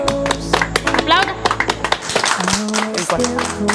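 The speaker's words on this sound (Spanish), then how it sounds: "Un aplauso para todos los médicos y al equipo de salud." Scattered claps for doctors and health workers, heard under someone speaking Spanish on a Sunday television broadcast, with music and tonal sounds running alongside.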